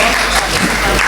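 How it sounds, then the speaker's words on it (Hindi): Loud, dense applause fills a live Hindi poetry recital hall, a brief continuous burst of clapping from the audience. "एक बार जोरदार तालियां बजाइए"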